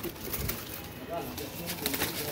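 Teddy golden and blue pigeon chicks coo softly in a loft, a few low murmuring calls close by mixed with light rustling.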